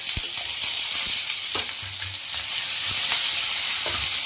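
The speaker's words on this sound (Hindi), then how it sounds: "इसी के साथ जाएगा इसमें प्याज और इसको हम भून लेंगे।" Onion, green chili and ginger fry in a pan for soya chaap masala, giving a steady loud sizzle with a few soft stirring clicks and scrapes throughout.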